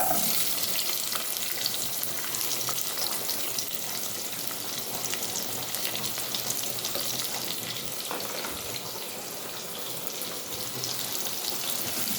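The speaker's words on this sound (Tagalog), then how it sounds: "igisa na natin yung garlic tsaka onion" Garlic and onion sautéing in hot oil in a home kitchen, a steady loud sizzle and crackle running throughout with faint stirring, no talking.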